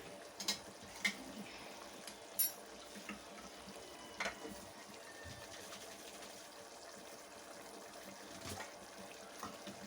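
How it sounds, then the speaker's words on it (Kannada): Water left in a mixer jar is poured into a pan of Chettinad chicken gravy, giving faint, soft splashing and trickling with a few light knocks. "ನಾನೇನು ಮಿಕ್ಸಿನಲ್ಲಿ ನೀರಿತ್ತು ಅದನ್ನು ಈಗ ಮತ್ತೆ ಪುನಃ ಇದಕ್ಕೆ ಹಾಕ್ಕೊಳ್ತಾ ಇದ್ದೀನಿ"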